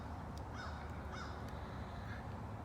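Crows caw outdoors in a short series of harsh calls, a few spaced bursts carried over a steady low rumble of background noise.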